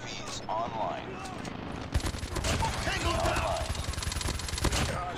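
Rapid bursts of Peacekeeper MK2 fire in a Call of Duty Mobile match, sustained fast-rattling shots after a brief lead-in of game sounds and a short voice, loud and continuous under faint talk.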